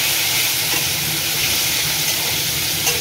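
Shrimp frying in hot oil, in the same oil used to redden dried chillies, gives a loud, steady, close sizzle and hiss with no pauses.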